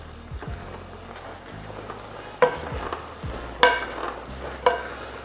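Pancit noodles tossed in a hot pan with fried kikiam, squid balls and vegetables, a soft continuous sizzle punctuated by several sharp scraping clanks of the utensil, near and with no speech.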